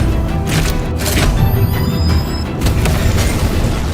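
A barricade is blown up in the video game Dead Space with a loud, sustained boom, and dense rumbling debris noise fills the whole span, dipping briefly and then swelling again.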